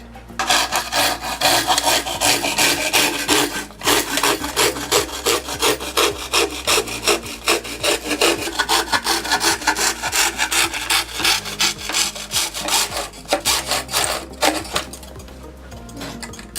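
Hand saw cutting lengthwise through a narrow wooden batten clamped to a saw guide, with steady rasping strokes that repeat loud and close, pausing briefly before resuming.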